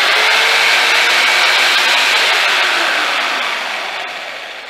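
An 800-watt GINOUR jigsaw rated at 3,000 rpm runs steadily with a loud, dense whine that holds level, then tapers off toward the end. No one speaks.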